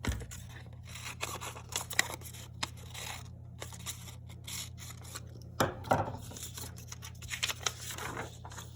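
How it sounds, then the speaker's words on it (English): Scissors snip through red paper to shape a small triangle, close and crisp, with repeated irregular cuts and rustling paper across the stretch and no talking. "we're going to cut out our last shape of paper, which is the tail"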